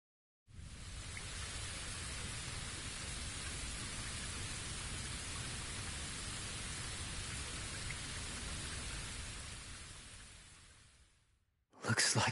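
Steady rain hisses continuously in the video game Unfinished Light Rain, a dense even wash of falling drops that holds for about ten seconds before thinning out and stopping, with a brief burst of sound right at the end.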